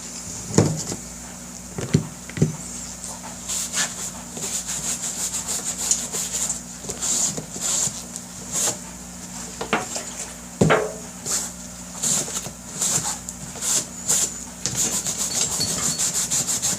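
Leather grip covers scrubbed clean by hand, a close, dry, scratchy rubbing in irregular strokes with a few sharper knocks and scrapes along the way.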